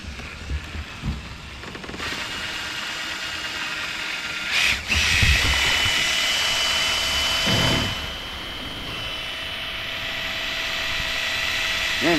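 An electric drill drives a kayak on the water, giving a steady, high whining motor drone that holds throughout, with a few splashes and knocks and slight shifts in pitch as it runs.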